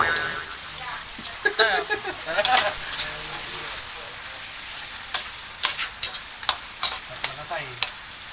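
Shrimp stir-fried in a hot pan for seafood pasta, steady sizzling under repeated sharp scraping strokes of a spatula, rhythmic taps growing regular toward the end, with someone talking at times.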